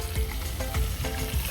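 Garlic masala with turmeric, coriander, cumin, garam masala and salt fries in hot oil, a loud, dense, continuous sizzle with rhythmic stirring scrapes, heard close and alone.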